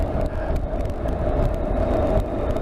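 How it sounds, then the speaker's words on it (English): A big truck (HGV) passes on a road on a ride to Hebden Bridge, giving a close, steady, heavy engine and tyre rumble that holds at an even level for a few seconds. "Nice big truck, a Big Mac I think it is this."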